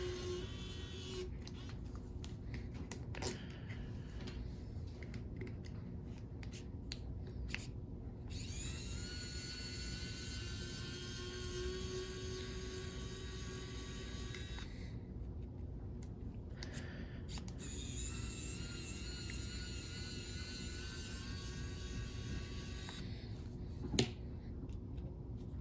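Cordless electric screwdriver backing screws out of an aluminum Ramp Crab skid plate, its whirring motor and ratcheting clicks running in bursts with short pauses, one sharp click near the end.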